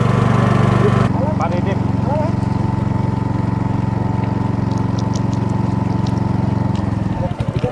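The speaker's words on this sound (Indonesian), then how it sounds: "Walaupun agak-agak berisik karena suara motor yang cukup keras" A loud small motorboat engine on a river boat drones steadily and close, a chugging motor hum throughout, with a voice briefly audible under it.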